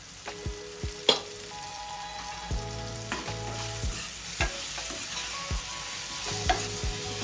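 Kathiyavadi-style cantaloupe sabji with tomato stirred in a covered pan, a steady sizzle running throughout with scattered scrapes and clacks of the spoon against the pan, no voices.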